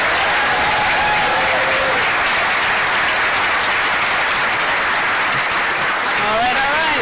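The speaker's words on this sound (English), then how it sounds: "One more round of applause for all of our student honorees." Dense, sustained clapping fills the hall as an award dinner crowd applauds student honorees, steady and loud throughout, with voices and a cheer or two rising through the applause near the end.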